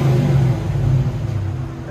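A 1995 Ford Mustang GT with a 5.0L V8, dual Flowmaster Super 10 exhaust and X pipe revs loudly up close, rising briefly and then settling into a deep rumble.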